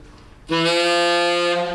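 A single held saxophone tone played with an "o" vowel mouth shape enters suddenly and sustains evenly, rich and full, played alone at close range.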